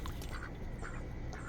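Ducks at a bird birthday party with blueberries, quacking in short bursts at close range over a constant background rustle, with geese nearby.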